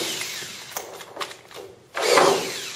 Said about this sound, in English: So in this case, I just drill a hole.